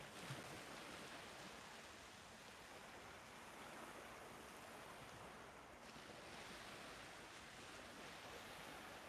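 Calm sea surf at a beach between Hua Hin and Cha Am in Thailand, a steady broad wash of gentle waves with some wind, continuous and fairly faint, with no talking.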